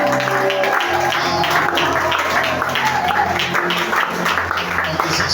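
A church congregation applauds during a service, a steady mass of clapping mixed with crowd noise and sustained tones from instruments playing underneath.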